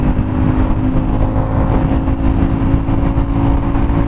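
An Aprilia or Ducati motorcycle engine runs close by with a steady, loud mid-pitched drone and a slight rise in revs, heard alone.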